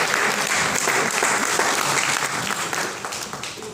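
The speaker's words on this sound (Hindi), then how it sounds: "मैम के लिए एक बार जोरदार तालियां हो जाए दोनों मैम के लिए।" Dense, loud applause from a seated audience honouring women guests at a Kala Bharat arts event, sustained clapping from many hands that tapers slightly toward the end.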